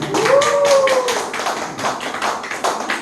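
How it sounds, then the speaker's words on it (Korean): A room full of people clapping in quick, uneven bursts, close and fairly loud, with a brief voice heard near the start. "박수 쳐야 되는 거 아니에요?"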